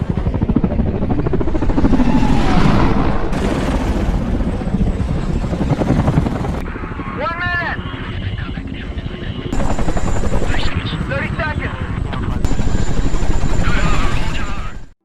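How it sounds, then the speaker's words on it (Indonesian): Chinook and Apache military helicopters fly at night over hills in Afghanistan, their heavy rotor roar steady and loud throughout, with distorted radio-like voices and scattered shouts mixed in. "dengan menggunakan 2 helikopter Chinook dan 2 helikopter Apache"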